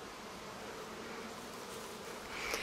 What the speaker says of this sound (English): the bees are pretty agitated